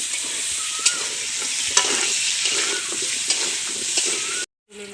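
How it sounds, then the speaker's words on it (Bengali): Turmeric frying in hot oil in a pan for a Bengali chicken curry, giving a steady close sizzle with occasional stirring scrapes, cutting out abruptly near the end. "হলুদ এখন ভালোভাবে ভেজে নেব।"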